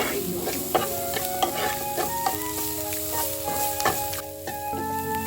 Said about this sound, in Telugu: అల్లం వెల్లుల్లి పేస్ట్ పచ్చివాసన పోయే వరకు మంచిగా ఫ్రై చేసుకోవాలి